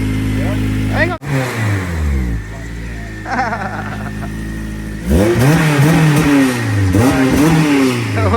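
A car engine swapped to a Honda K-series revs repeatedly up to about 4,000 rpm, pitch sweeping up and falling back in several loud bursts, with a voice briefly heard alongside.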